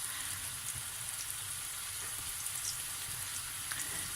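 Onions sautéing with a pinch of salt in a pan give a steady, even sizzle and crackle throughout, close and moderately quiet, with no voices over it.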